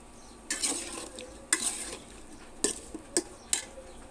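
Cauliflower is being stir-fried in a pan at home, with a soft sizzle beneath several sharp scraping clinks of a spatula against the metal, spaced irregularly and close by, with no talking.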